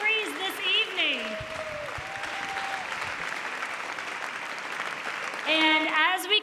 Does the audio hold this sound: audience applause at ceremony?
yes